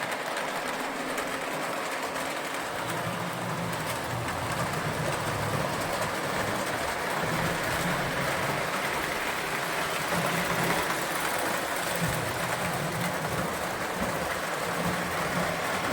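A small Marx 1666 toy steam locomotive train runs steadily along its track, producing a continuous whirring, clicking mechanical rattle at a constant pace.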